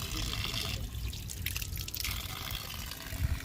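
Water splashing and trickling steadily from the Eagle Fountain on the Aventine, a continuous close-range wash of falling water with faint ambient noise.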